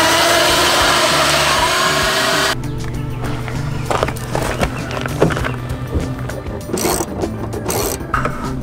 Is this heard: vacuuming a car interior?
yes